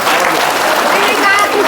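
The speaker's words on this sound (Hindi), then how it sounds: "एक बार जोरदार ताली" A gathered congregation claps loudly, a dense wall of applause that fills the space, with some voices mixed into it.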